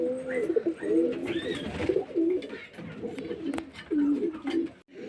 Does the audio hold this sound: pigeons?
yes